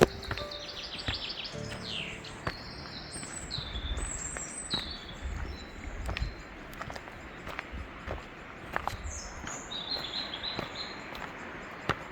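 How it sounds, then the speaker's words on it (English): Birds chirp and trill repeatedly in the open air of the Polish countryside, with scattered footsteps or hoof clops tapping underneath; calls are moderately near and fairly steady. "All you can hear around you is birds singing."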